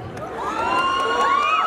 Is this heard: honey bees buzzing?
no